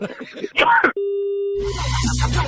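A steady, sustained telephone hang-up tone follows brief talk on a radio prank call, then gives way to a louder continuous hum with voices and noise underneath.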